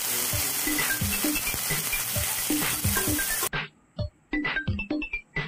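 Paneer cubes fry in hot oil in a wok, crackling and sizzling up close with stirring clatter. After about three seconds the sound cuts to quieter, sparser sizzling pops.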